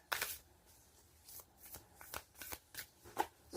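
A deck of cards being shuffled during a tarot reading, a series of short, crisp riffling bursts and flicks, close and fairly quiet, alone without talk.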